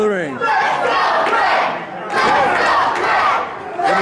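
A wrestling crowd at a cage match roars and chants in support of Hardcore Craig, loud swelling waves of massed voices rising and falling with brief lulls between.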